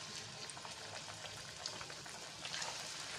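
Beetroot puris deep-frying in hot oil, a steady dense sizzle and bubbling hiss that holds throughout, close and moderately quiet, with no voices.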